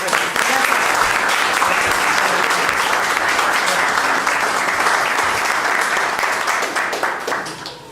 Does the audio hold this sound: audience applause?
yes